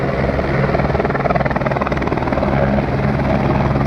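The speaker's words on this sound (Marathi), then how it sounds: "बघू शकताय हेलिकॉप्टर लँड होत आहे." A helicopter landing at a helipad, its loud rotor chop and engine roar steady and close, filling the air without any voices.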